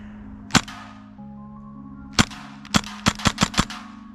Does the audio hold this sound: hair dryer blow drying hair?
no